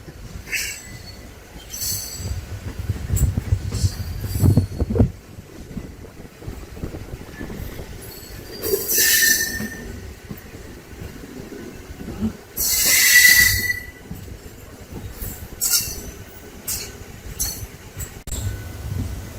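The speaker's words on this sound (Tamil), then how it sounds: "பிளாட்ஃபார்ம்குள்ள என்டர் ஆயிட்டு இருக்கு நம்ம ட்ரெயின்." A MEMU passenger train rolls slowly into the platform at Mettupalayam railway station, wheels clattering and rumbling, with several sharp high squeals from the brakes and wheels along the way.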